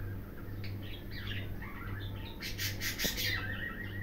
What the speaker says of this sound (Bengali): পাখির কিচিরমিচির শোনা যাচ্ছে